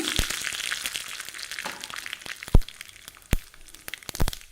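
Mustard seeds and urad dal fry in hot oil, giving a steady faint sizzle broken by several sharp, close popping cracks from the seeds.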